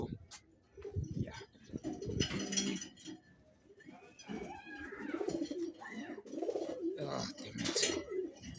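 Pigeons coo close by in soft, throaty repeated calls with short gaps, mixed with rustling and shuffling as a bird is handled for leg ringing.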